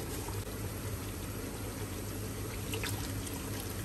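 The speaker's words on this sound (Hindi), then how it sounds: "2 से 3 कप पानी शामिल करेंगे।" Water being poured into a pan of chicken kofta curry, a steady broadband pouring and sizzling wash that stays even and fairly close throughout, with no talking.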